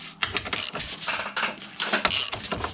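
A ratchet breaks free the 13 mm strut top bolts on a 2022 BMW M135i xDrive. Rapid clicking pawl ratchets come in several close bursts with metallic clinks between them.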